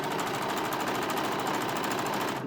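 A sewing machine stitches a seam on a bunny costume, a rapid, steady mechanical rattling hum running without pause, close and fairly loud.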